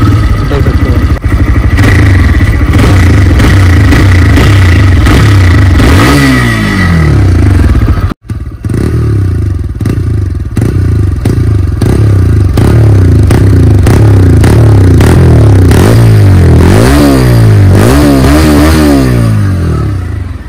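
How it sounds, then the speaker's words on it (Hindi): A TVS Raider 125cc motorcycle idles up close with a loud, steady exhaust note, broken by a brief dropout, then revs repeatedly in rising and falling bursts. "सो अभी का इसका आप लोग को एग्जॉस्ट नोट सुनाता हूँ।"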